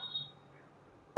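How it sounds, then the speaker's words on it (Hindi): A single sharp, loud cough bursts out near the end after near silence, close to the listener, in a home kitchen while cooking. "भाई खांसी हो रही"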